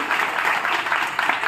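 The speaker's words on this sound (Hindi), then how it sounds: "जोरदार तालियों से स्वागत कीजिए।" A crowd at a Ganesh festival claps to welcome a guest, a dense continuous patter of applause at moderate distance for a brief moment.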